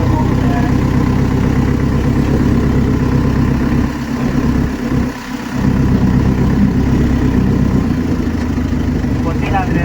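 A JCB backhoe loader's diesel engine runs steadily and loud throughout, with a brief dip in the middle, while people talk over it.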